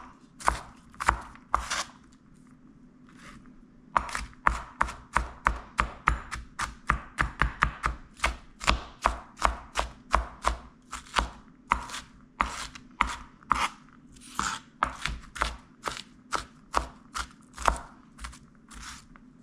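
A knife chops and minces food on a board for chimichurri in a brisk, steady run of close, crisp taps, pausing briefly near the start and then continuing in quick bursts.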